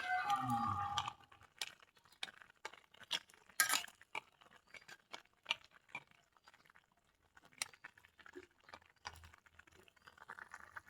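A spoon stirs a homemade pumpkin curry in a pot, giving soft intermittent clinks and scrapes against the metal, with a busier burst of sound at the start and then quiet, scattered taps.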